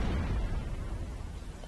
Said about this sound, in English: We got the cannons cracking across the valley.